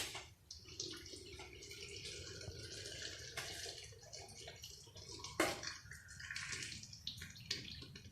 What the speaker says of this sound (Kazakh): Енді біз осы банкыге қайнап тұрған ыстық суды құямыз.